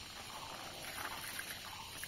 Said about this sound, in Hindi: यहाँ पे पानी डाल देता हूँ।